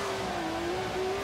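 Engine of an expensive mid-engined, rear-wheel-drive hypercar revving in Forza Horizon 3, a steady held drone with a clear tone that dips slightly and rises again, loud and close, with no talk.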